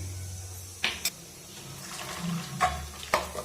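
Cooking water is drained off boiled greens and lentils in a home kitchen, a soft splashing pour with a few brief clinks, quiet and close.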